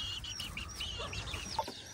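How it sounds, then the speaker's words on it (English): Brassy back hen (Old English game) with chicks, giving a steady run of soft clucks and high chick peeps, close by over low outdoor background noise. "This is that brassy back hen I was telling you guys about."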